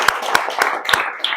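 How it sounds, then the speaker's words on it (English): A small group gives a quick round of applause after thanks at an evening parent session on teens and mental health; a few sharp, separate claps ring out close by, sparse and brief rather than a full ovation. "if we don't mind giving them a little round of applause"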